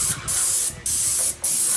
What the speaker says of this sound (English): today we spray the gutters and the fascia